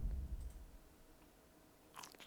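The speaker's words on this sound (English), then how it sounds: "Oh, pretzels! Can I pick it up and eat it?" A character in the video game Kingdom Come: Deliverance 2 bites into a crunchy pretzel. A firm crunch comes first, then faint chewing, and a small crackle near the end, all quiet with no talking.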